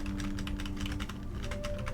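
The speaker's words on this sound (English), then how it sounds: "I was very particular about this membrane keyboard." Quick, steady keystrokes on a quiet, water-resistant membrane computer keyboard, a soft poppy patter of close taps with a faint steady hum underneath.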